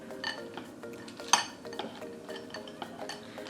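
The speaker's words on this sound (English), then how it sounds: "Can you mix that with the spoon?" A spoon mixing chocolate chips into banana muffin batter in a bowl, soft scraping and stirring with one sharper clink against the bowl's side, close and fairly quiet.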